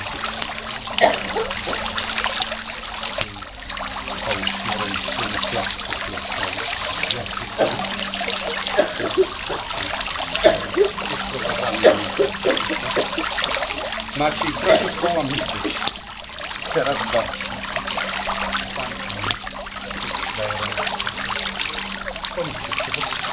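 Water trickles steadily from a fountain in a hypnotherapy session, a continuous close splashing flow running the whole time while people talk nearby.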